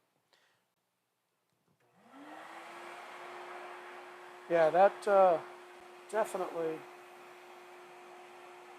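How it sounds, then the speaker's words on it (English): A steady vacuum cleaner motor whine starts up in a workshop and drones continuously, with a few short spoken phrases breaking in over it. "Let's get the vacuum on."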